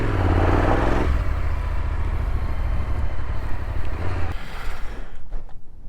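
A motorcycle pulls away in first gear, its engine a loud, close rumble with a rough, fluttering note that drops off and thins toward the end.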